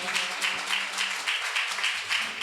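Rhythmic clapping from a church congregation, many hands beating together in a steady, fairly loud pulse that carries through the hall with faint voices underneath.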